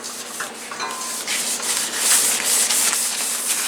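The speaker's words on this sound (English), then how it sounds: "get my coffee filter nice and good, and just smear this all over it to stop any rust right away" A coffee filter rubbed over a freshly cleaned cast iron pan to smear oil on it, a loud continuous papery scrubbing with rhythmic back-and-forth strokes, close up and alone.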